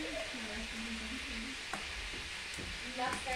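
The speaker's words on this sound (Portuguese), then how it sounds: "Tá frigindo a linguiça." Sausage sizzles in a pan on a wood-burning stove, a steady broadband frying hiss with occasional stirring scrapes while a voice talks over it.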